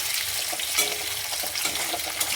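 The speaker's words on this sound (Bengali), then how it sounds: "ওই জন্য হালকা করে একটু ভেজে নেব" Capsicum cut for chilli chicken fries lightly in hot oil over a gas flame, giving a dense, even sizzle with faint stirring scrapes throughout.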